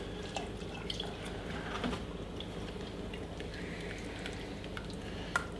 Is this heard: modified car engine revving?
no